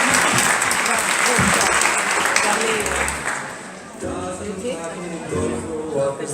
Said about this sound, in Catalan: Aplaudiu tots!